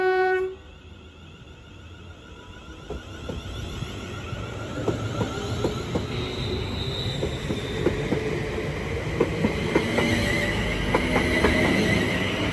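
British Rail Class 350 electric multiple unit passing through Watford Junction on the West Coast Main Line, a rising rumble of wheels with clicking rail joints and faint squeal, growing louder as it runs by, no talking.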